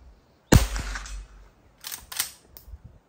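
A single sharp report from a Henry Classic lever-action rimfire rifle fired outdoors at a distant target, followed by a few fainter ringing or echoing pops, with no talk.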